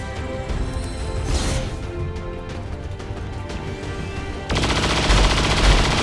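Rapid-fire gunshots in the XCOM 2 video game, a dense continuous volley of loud bursts that intensifies sharply toward the end.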